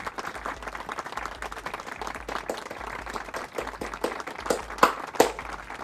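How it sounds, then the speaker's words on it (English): A round of applause rises as a steady patter of clapping, with a few louder claps near the end, under a low pulsing background. "round of applause to him"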